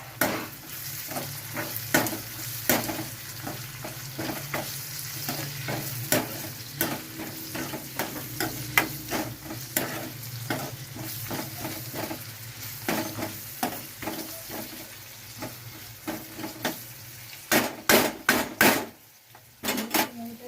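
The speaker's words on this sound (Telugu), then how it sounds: "రెండు పావుల ఆయిల్ వేసుకున్నాక కలపాలి" Potato curry being stirred in a pan after oil is added, with a steady run of scraping, clinking spoon strokes against the pot over a soft sizzle, the strokes growing louder and quicker near the end.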